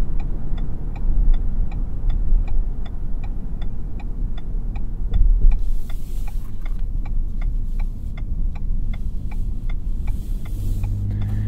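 Ford F-150 Hybrid pickup with the 3.5-liter EcoBoost V6 pulling hard under acceleration, a steady low engine rumble and road drone throughout, with a regular faint ticking, like a turn signal, running over it.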